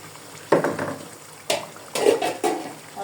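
Marinated chicken pieces drop into a cooking pot in a home kitchen, with several sharp clattering thuds and brief wet sizzling bursts spread over a few seconds, close and moderately loud, with no talking.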